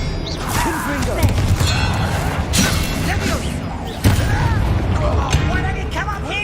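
Confringo fire spells go off in a Hogwarts Legacy battle inside a goblin mine, with repeated booming blasts and crackling impacts over a dense wash of combat effects and chanted incantations from voices in the scene.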